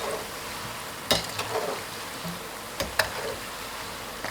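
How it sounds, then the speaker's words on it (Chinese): Yam and flour balls deep-fry slowly in oil over medium-low heat, a steady fine crackling sizzle throughout, punctuated by a few sharp clinks of a slotted spoon stirring against the pot. "切记全程一定要中小火慢炸"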